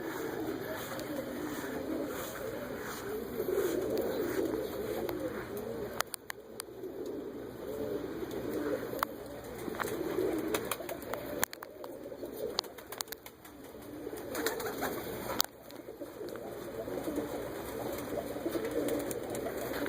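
Pigeons coo in breeding lofts full of young birds: soft, low, overlapping cooing throughout, with occasional light rustles and a faint steady background hum.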